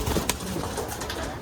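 Giribaj pigeons coo at a pigeon farm in Rajshahi, a soft low murmur that is faint and partly buried in a busy, noisy background over a short stretch.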